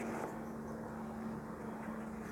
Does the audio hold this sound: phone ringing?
no